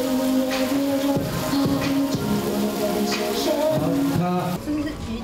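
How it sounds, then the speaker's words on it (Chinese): Artificial rain pours onto a music video set, a continuous patter of heavy drops mixed with loud music playing over it. "是不是雨点有点太大？"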